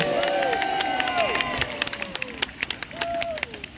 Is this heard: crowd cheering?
yes